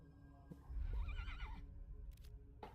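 A horse in the Ashes of Creation video game gives one clear whinny, its wavering neigh rising and falling over a low rumble, followed by a couple of brief clip-clop hoof sounds.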